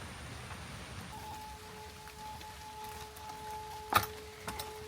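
Rain falls on a treetop walkway through forest canopy in Singapore: a steady, soft hiss of drops with a faint constant tone and one sharper splash.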